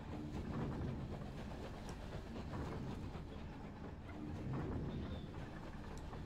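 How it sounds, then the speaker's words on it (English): Rail travel in the video game Night in the Woods comes through as a quiet, steady rumble of a moving train with faint rhythmic rattling over the track, continuous and distant. "We're on a train!"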